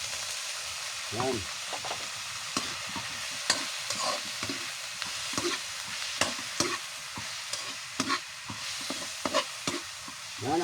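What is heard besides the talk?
chicken sautéing and being stirred in a pan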